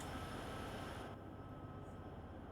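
A locomotive rumbles along the rails on Sherman Hill in Train Sim World 2, a steady broadband roar that thins slightly partway through, close and continuous with no voices over it.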